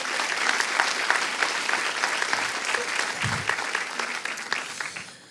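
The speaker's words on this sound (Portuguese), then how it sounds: "Vamos dar uma salva de palmas a Jesus?" A church congregation claps together during a sermon, a steady wash of many hands filling the hall, loud and sustained before gradually thinning out near the end.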